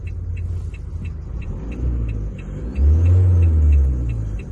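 An Opel Movano / Renault Master van engine revs up from a steady idle, the deep rumble swelling louder and holding at higher revs near by.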